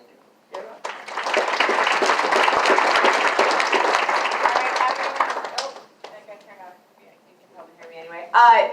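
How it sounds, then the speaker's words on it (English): Applause from an event audience fills about five seconds, dense and steady clapping from a room full of people, then fades out as scattered voices and talk take over near the end. "let's please give a big round of applause to Deb."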